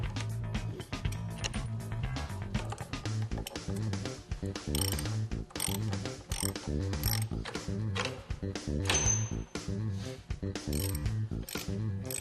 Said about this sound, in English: we're using this short ratchet strap to connect up the 2 ends of the Trackmaster over the tire track